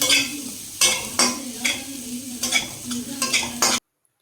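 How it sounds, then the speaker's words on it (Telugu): Fried chicken pieces and scrambled egg are stirred in a hot pan for chicken noodles: repeated scraping strokes of a spatula over a steady sizzle, close and fairly loud. "ఫ్రై చేసినటువంటి చికెన్ ముక్కలు, అలానే ఎగ్ పొరటు వేసుకొని బాగా కలుపుకోవాలి."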